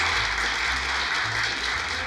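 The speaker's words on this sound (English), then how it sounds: "Applause, applause!" An audience claps steadily for a polar explorer, Rear Admiral Sir Vincent Smythe Obleson, a continuous even wash of applause holding at one level over a low rumble throughout.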